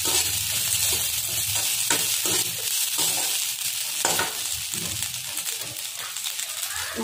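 Dried fish fried in a pan with onion and garlic sizzles loudly and steadily, broken by repeated scrapes and stirs of a spoon, while a person speaks over the cooking.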